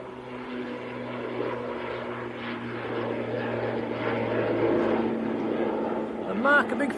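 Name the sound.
Aer Lingus plane at Manchester Airport, likely to Dublin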